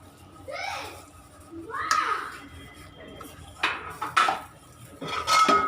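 Semiya (vermicelli) being mixed in a pan for a Tamil-style khara recipe, with several scraping clinks of a metal utensil against the cookware in short bursts, close and moderately loud, and faint background chatter.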